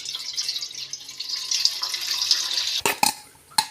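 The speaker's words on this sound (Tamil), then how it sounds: "இதை நம்ம வடிகட்டி அதில் ஊற்றிக்கிடுவோம்." Milk streams through a kitchen strainer into a pan, a steady close liquid pour that ends in a few sharp metallic clinks and taps.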